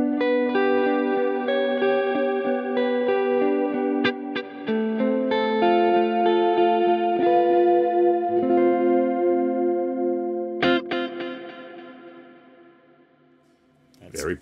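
Clean electric guitar notes through a Line 6 DL4 MkII delay pedal with built-in reverb, ringing out with repeating delay echoes and a wash of reverb, sustaining and slowly fading near the end.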